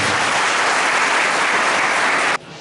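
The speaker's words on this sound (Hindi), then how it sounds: "इनके लिए मैं जोरदार तालियों का चाहूँगा" An audience at a Republic Day celebration inside a jail in Bhopal claps loudly and continuously, then the applause cuts off abruptly near the end, leaving faint room sound.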